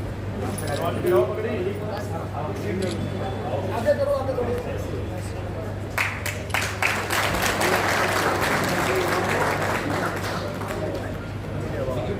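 An audience at a stage ceremony honouring the devotion of Bhagat Dhanna Jat breaks into warm applause that builds and carries on for several seconds, with a voice speaking over a background murmur beforehand.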